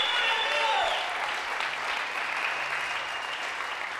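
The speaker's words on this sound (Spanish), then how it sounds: "Dele un fuerte aplauso y ovación a nuestro Padre" Loud, sustained applause from a congregation at a church service fills the space, a dense even clatter of clapping that slowly eases off.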